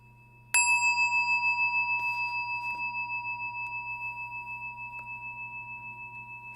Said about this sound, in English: you can open your eyes when you hear the gong.